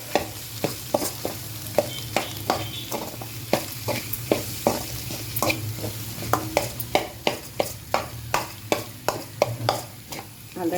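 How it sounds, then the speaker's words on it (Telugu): A ladle mashes boiled potatoes in a pan for hotel-style potato curry, making regular sharp scraping knocks roughly every half second over a steady low sizzle, close and with no speech. "ఇక మనం గంటితోటే స్మాష్ చేసేయచ్చు."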